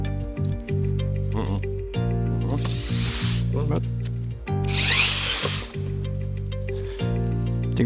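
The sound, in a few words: power drill driving screw into drywall profile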